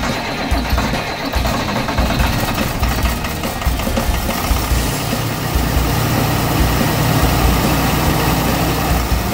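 A school bus engine idles steadily throughout, a loud continuous low rumble with a constant mechanical drone and no voices over it.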